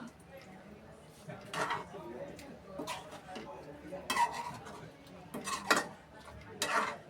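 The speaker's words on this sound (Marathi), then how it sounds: "कोथिंबीर मिक्स करून घेते." Coriander is stirred into a cooked bean-pod vegetable in a pan, with a spoon scraping and clinking against the metal in several separate bursts. A quiet kitchen background sits under the stirring.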